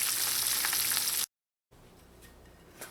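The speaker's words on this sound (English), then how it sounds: "I'm going to continue frying the rest of my shark until I've fried out all of them" Shark pieces fry in hot oil for Trinidadian bake and shark, a loud, dense sizzle that cuts off abruptly, then returns as a quieter, steady crackle with a faint clink near the end.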